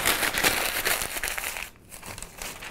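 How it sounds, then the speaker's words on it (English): A sheet of newspaper is crumpled into a ball by hand, a close, busy crackle and crinkle that pauses for a moment before rustling again. "You're going to take a newspaper,"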